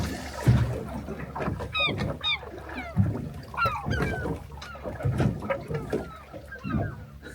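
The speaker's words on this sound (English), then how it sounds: "Seagull's a bit optimistic." Seagull calling at sea near a fishing boat, several bright squawking cries repeated over wind and water noise, with low rumbles and knocks from the boat underneath.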